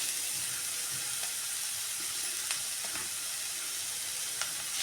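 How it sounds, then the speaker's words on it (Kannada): Grated beetroot frying in a pan gives a steady, even sizzle and hiss, close and fairly quiet, with a few faint stirring scrapes and no talk. "ಇವಾಗ ಬೀಟ್ರೋಟ್ ತುರಿದಿರೋದು ನಾವು ಹಾಕೋಣ"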